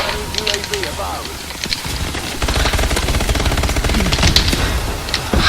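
Rapid submachine gun bursts from the futuristic shooter Call of Duty: Advanced Warfare, close and sharp, firing in repeated volleys with game effects and a voice talking over parts of it.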